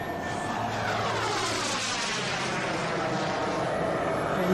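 An F-4 jet aircraft's engines give a steady, broad roar that holds loud and continuous throughout, with a faint high whine riding above the rumble.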